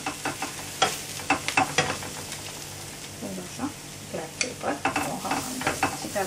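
Potatoes with turmeric and black pepper stirred in a pan, a soft sizzle under irregular scraping and clinking strokes of the spoon, close and moderately loud, with no talking.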